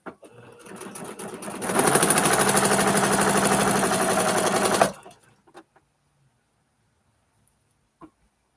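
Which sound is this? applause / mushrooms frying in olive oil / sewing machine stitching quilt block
sewing machine stitching quilt block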